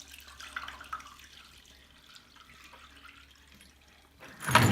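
Murky water being pumped out of a bathtub while wet-tumbling blackened brass: a low steady hum with faint trickling and splashing, ending in a sudden loud gush of water close by.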